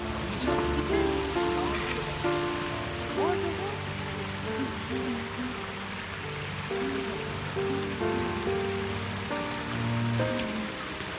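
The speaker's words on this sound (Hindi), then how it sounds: "बहते पानी को रिकॉर्ड किया था" A mountain stream in Palampur, Himachal Pradesh, rushes steadily with a constant broadband wash of flowing water, accompanied by sustained tonal sounds layered over the continuous flow.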